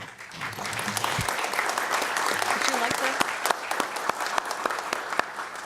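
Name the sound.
audience applause at county commissioners meeting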